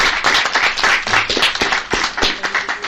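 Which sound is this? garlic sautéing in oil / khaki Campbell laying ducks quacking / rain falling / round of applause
round of applause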